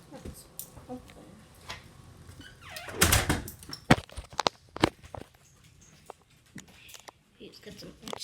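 A door creaks and thuds open in the video game Hello Neighbor alpha 2, amid footsteps and clunky game sound effects, with a voice talking intermittently around it.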